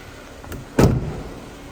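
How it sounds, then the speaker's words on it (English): A single solid door clunk from a 2016 Jeep Wrangler Rubicon Unlimited 3.6 V6, one heavy close thud with a short tail, preceded by a faint click of the handle. "Got a lovely clunk to the doors when you open it"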